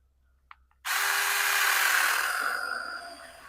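A small Seesii 3-in-1 yard tool chainsaw roars to life after a brief click, running loud and steady at close range for several seconds while cutting a large tree, before easing slightly.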